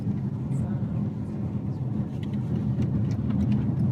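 Steady low engine and road rumble from a car driving through the Lake District toward Seathwaite, just south of Keswick, a continuous close hum with faint ticks above it.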